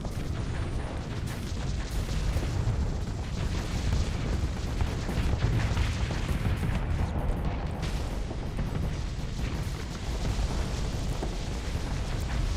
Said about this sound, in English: Right in the butt. Torpedo.